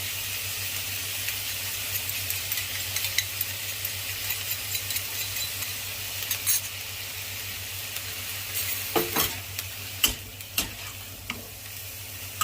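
Liver is stir-fried in a hot pan, a steady close sizzle with irregular scraping and clinking of the utensil against the pan that grows busier toward the end, with no voices.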